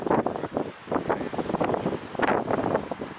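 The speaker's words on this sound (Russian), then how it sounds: "Всегда тут ветра, и очень сильные зимой" Strong wind on the coast at Morecambe, England buffets the microphone in rough, surging gusts, rising and falling in loud bursts with no talking.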